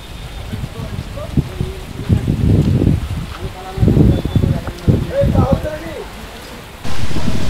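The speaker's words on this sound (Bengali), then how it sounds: "জোরে বৃষ্টি নেমেছে, ওই দেখুন" Heavy rain pours down outdoors near a tree by a village zamindar house, a dense steady wash under intermittent talking voices, with a sudden louder burst near the end.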